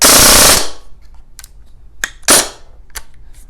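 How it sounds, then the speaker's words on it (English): A Krytac Kriss Vector airsoft gun fires a loud, dense full-auto burst of about half a second, followed by quieter clicks and a second short burst. "And then full auto."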